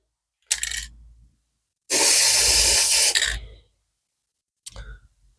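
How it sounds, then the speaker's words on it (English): Two short hissing bursts bracket one long, loud spray of lacquer from an aerosol can onto cloudy solar panels and lights, each with a faint rattle, separated by silence. "It's this pristine lacquer. Spray it on."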